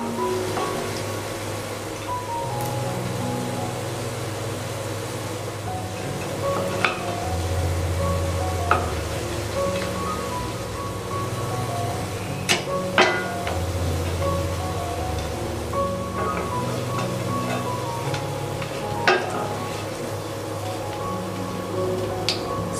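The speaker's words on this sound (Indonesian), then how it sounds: "goreng semua adonannya sampai semuanya habis" Potato snack batter frying in hot oil, a continuous close sizzle and crackle with occasional stirring clinks and scrapes, steady over a long stretch with no voices.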